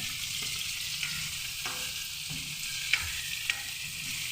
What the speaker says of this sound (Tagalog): luto kay panihapon